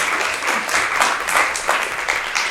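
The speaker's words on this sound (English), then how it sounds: "let's give these two another round of applause." An audience at a health and wellness presentation claps in a brisk, close round of applause with uneven swells of clapping throughout.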